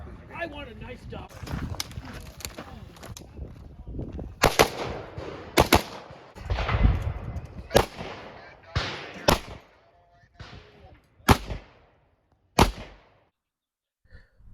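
Rifle shots ring out at a shoot house competition, a string of sharp, loud single cracks spaced irregularly and fading into quiet between them, heard from close by.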